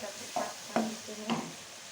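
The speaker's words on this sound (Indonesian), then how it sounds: "Belum mendidih, kita sambil aduk-aduk." Food being stirred in a pot while cooking nasi briyani, giving three soft scraping strokes at a steady pace against a low simmering background, close and fairly quiet.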